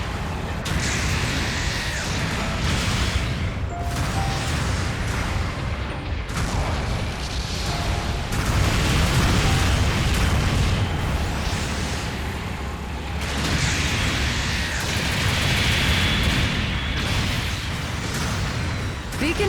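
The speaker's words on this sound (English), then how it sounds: "Supporting fire incoming." Supporting fire lands in Gundam Battle Operation 2, heavy booms and bursts rolling over a dense mechanical battle din, loud and sustained, with a game announcer voice talking throughout.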